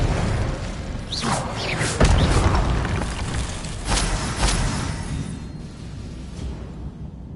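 Incendio and Expelliarmus spells fire in Hogwarts Legacy, each cast a whooshing burst ending in booming, fiery impacts, one after another in a dense, loud stretch of game sound.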